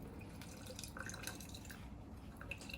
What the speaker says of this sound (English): Let's put half of a motherfucking lime in this drink.